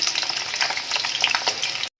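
Potatoes fry to a deep brown in hot oil for a Bengali mutton curry, giving a steady, close, crackling sizzle that cuts off abruptly near the end.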